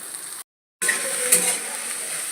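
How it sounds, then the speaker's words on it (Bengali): Garlic, green chillies and onion frying in a pan for a dried lotte fish mash, a steady hiss and sizzle broken by a brief silence, with faint stirring and clinks. "এখন এর মধ্যে দিয়ে দেবো রসুন, কাঁচামরিচ আর পেঁয়াজ, এইগুলোকে লাল করে ভেজে নেব"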